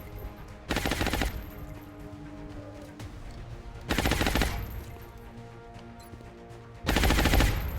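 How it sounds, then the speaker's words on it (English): Suppressing fire on a Thin Man in XCOM: Enemy Unknown: three loud automatic gunfire bursts about three seconds apart, each lasting under a second, separated by quieter ambient game sound. "Suppress this Thin Man. Suppressing fire on target."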